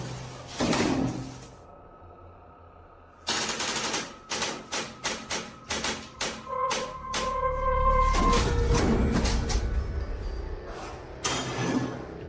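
A door in an abandoned building, its doorknob missing, is forced open: a quick run of sharp, loud knocks and thuds, then a sustained rumbling scrape as it bursts open.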